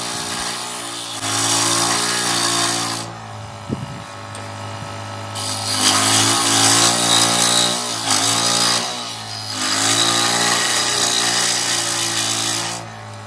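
A power tool cuts through the plastic front skirt part of a Chevrolet D20 model, whining loudly in three sustained bursts separated by short pauses, close and with no talking.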